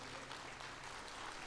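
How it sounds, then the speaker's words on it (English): A large conference audience gives a standing ovation, a thick, even roar of applause with no pauses. "Please give them a standing ovation."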